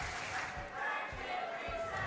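A crowd roars at a Splatoon 3 grand finals esports event, with a high-pitched audience scream cutting through loud, continuous arena noise and faint commentary.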